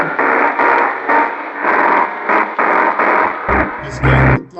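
Piano processed through an overtone filter with a crunchy, distorted lead-guitar-like tone, playing a steady run of loud repeated notes with a heavier low burst near the end, no voices present.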